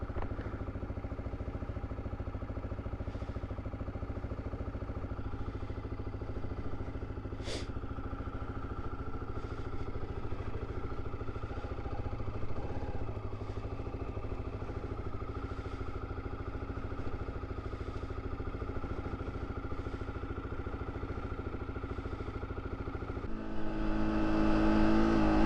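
A motorcycle engine cranks and turns over without throttle, a steady low mechanical drone and clatter running throughout, with a louder surge near the end.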